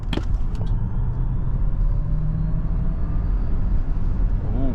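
XPENG G9 Black Edition electric car accelerating hard in sport and launch mode from 100 to 200 km/h, a loud steady road and motor roar with rising whine tones filling the whole stretch, heard from inside the cabin.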